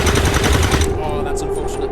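Rapid automatic gunfire in XCOM 2 rattles loudly in a fast burst for most of a second, then drops to a lower rumble with faint voices chirping briefly afterward.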